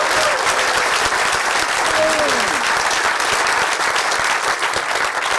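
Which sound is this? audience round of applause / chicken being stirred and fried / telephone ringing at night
audience round of applause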